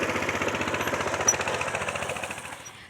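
A small engine runs with its choke turned off, chugging in a rapid, even pulse like a jackhammer, fairly close, with one sharp click partway through before it gradually fades and softens.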